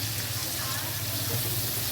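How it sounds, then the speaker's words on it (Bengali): Sliced onions and capsicum frying in a pan, giving a steady, soft sizzle that holds evenly throughout, fairly quiet and close. "পিস করা পেঁয়াজগুলো, ক্যাপসিকাম, এগুলো খুব একটা বেশি ভাজবো না"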